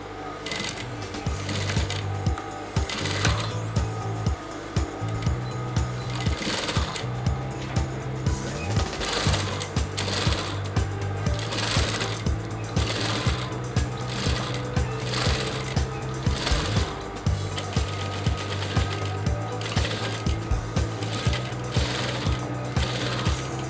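A sewing machine stitches along the interfacing of a Yoruba fila cap, running in repeated bursts of rapid mechanical clatter separated by short pauses, close and loud.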